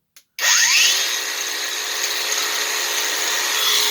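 A Worx Nitro cordless angle grinder with a grinding disc fires up after a faint click, settling into a loud, steady, high-pitched whine that runs unbroken to the end.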